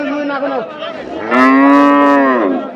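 Cattle low at a rural livestock market in Nilphamari, Bangladesh, ahead of Qurbani. A short moo is followed by a louder, longer bellow, both close by and clear.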